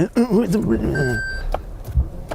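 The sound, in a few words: Toyota Land Cruiser warning beeps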